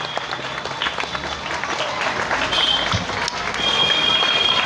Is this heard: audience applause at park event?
yes